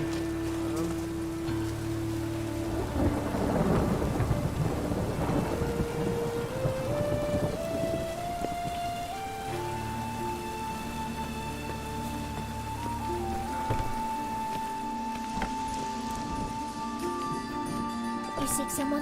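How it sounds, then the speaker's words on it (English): Storm ambience in The Witcher 3: steady rain and rumbling thunder beneath a rising, sustained tonal drone, with a brief spoken line near the start. "A storm, damn it."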